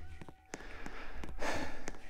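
Heavy, loud breathing close to the microphone, with noisy inhales and exhales over a steady background hum and a few clicks.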